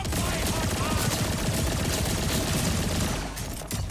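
Dense, rapid gunfire rattles nonstop in the shooter game Borderlands 4, cursed rounds firing in a loud continuous burst that thins slightly near the end.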